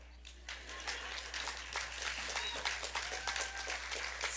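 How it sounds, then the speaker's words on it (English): Audience applause at a graduation ceremony, quiet at first and then swelling into a sustained, moderately distant round of clapping that is still building at the end. "You can applaud now."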